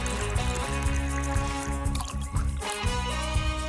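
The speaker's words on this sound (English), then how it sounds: "Let's pour water here." Water pours and splashes steadily for a few seconds, a near, fluid trickling with dribbling drops over a background bed of music.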